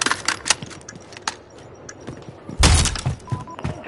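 Weapon reload in a PS4 shooter game: a string of short mechanical clicks and clacks, then a louder heavier clatter near the end, close and crisp with no voices.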